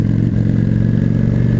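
A motorcycle engine runs steadily at close range on a night street, a continuous low rumble with a throbbing rhythm and no talk over it.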